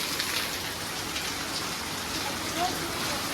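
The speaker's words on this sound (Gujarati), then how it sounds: "કેટલો બધો વરસાદ ફૂલ એકદમ ચાલુ થઈ ગયો" Heavy rain pours down in a dense, even roar of drops hitting surfaces, loud and unbroken from start to finish.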